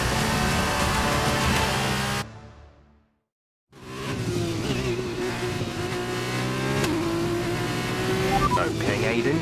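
Formula 2 race cars howling at high revs in F1 2021 at Abu Dhabi, a loud engine roar that cuts out briefly and then returns with rising gear tones, with a voice talking over it.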